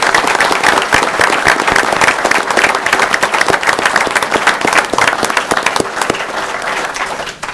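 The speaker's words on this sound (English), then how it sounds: "Please give them a round of applause." An audience applauds police officers at a police chief's acceptance ceremony: loud, dense, sustained clapping from a large crowd that carries on without a break and fades slightly at the end.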